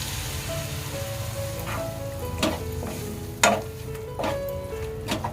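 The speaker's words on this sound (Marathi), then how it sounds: "आपल्याला पिठला घट्ट होईसपर्यंत चांगला मिक्स करून घ्यायचा आहे" Horse gram flour pithla mixture with turmeric being stirred in a pan over medium heat, soft scraping and gentle sizzling with a few sharper spoon knocks against the pan, no talking.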